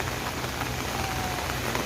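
Heavy rain pouring on a street in Yiu Tung Street during a landslide, a dense steady hiss of drops drumming on surfaces, continuous and close with no pauses.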